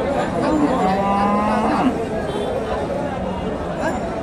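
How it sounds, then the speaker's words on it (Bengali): A native cow moos at a busy cattle market, giving a clear, fairly close low call that rises above crowd chatter and voices talking nearby. "এখানে একটা দেখেন দেশি গাবি"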